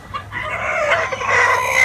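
Chickens cluck and a rooster crows from a backyard chicken coop on a windy day, with continuous bird calls at moderate volume and no talking.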